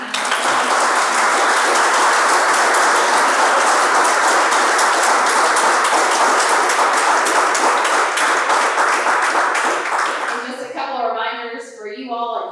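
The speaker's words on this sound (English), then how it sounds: "A big round of applause for our panelists" An audience at a campus panel event in Chapel Hill breaks into sustained, dense applause that holds loud for about ten seconds, then tapers off as a voice begins speaking.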